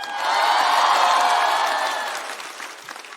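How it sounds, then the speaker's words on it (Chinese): Studio audience at a Chinese stand-up comedy show bursts into loud, steady applause that swells and then gradually tapers off, with no talking. "开场不容易，请大家多多鼓励，我们掌声有请门枪。"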